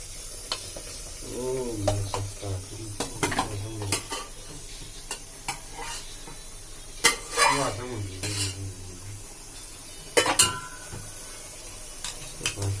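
Pork pasta being stirred in a pan, northeast-style, with a utensil scraping and clinking against the metal in irregular bursts over a soft sizzle, close and fairly loud, with a brief voice now and then.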